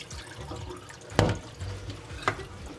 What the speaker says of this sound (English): drain all that water out